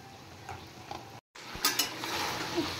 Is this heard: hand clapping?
no